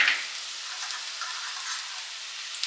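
Green chilies and crushed garlic fry in a pan for a Karnataka-style fresh pigeon pea palya, giving a soft, steady hiss of oil that carries on evenly throughout, fairly faint and with no one talking.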